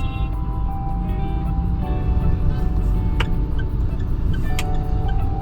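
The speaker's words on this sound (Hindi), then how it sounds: "पर वैसे इस रास्ते पर इस समय पर इतना ट्रैफिक तो मिलता ही है।" Morning road traffic on the Dwarka Expressway, a steady broadband rumble of passing cars and engines with a few brief sharp clicks or horn-like tones over the wash, continuous and fairly loud with no speech.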